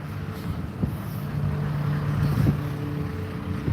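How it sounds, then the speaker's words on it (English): A truck drives down a rural lane beside an asparagus garden, its low engine rumble steady and fairly loud, swelling slightly as it passes. "I just did not expect this truck to be coming down here"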